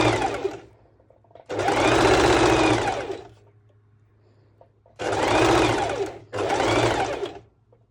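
A sewing machine stitches elastic onto a cowl neck dress in three bursts of fast, buzzing stitching, each about a second or more long, separated by quiet pauses with a faint hum underneath.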